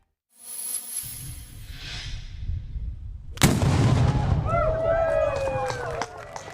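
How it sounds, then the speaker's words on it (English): A ceremonial cannon fires at the opening ceremonies of the RBC Heritage golf tournament, a single loud boom that rolls into a long echoing rumble, with a voice talking before the shot. "He kicked off the opening ceremonies yesterday with the firing of the cannon and the ceremonial tee shot."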